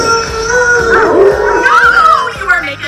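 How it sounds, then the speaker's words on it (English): A wolf howls in the animated Zootopia trailer, a long wavering cry rising and falling across the whole stretch, mixed with voices and background music. "You're going to start a howl."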